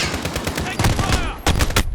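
Game gunfire from Call of Duty: Modern Warfare (2019), rapid bursts of automatic weapon fire crackling loudly and repeatedly over a chaotic battlefield mix, with a short lull before fresh volleys resume.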